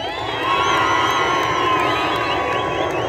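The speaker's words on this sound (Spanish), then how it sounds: "Ahora sí, para Nico, puro aplauso y grito." Crowd cheering, whooping and shouting at a jaripeo rodeo event in Michoacán, a dense, steady roar of voices filling the whole stretch with children's shouts mixed in.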